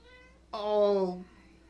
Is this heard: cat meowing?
yes